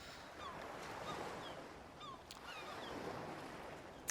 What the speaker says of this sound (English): this course, is the ocean sounds in the background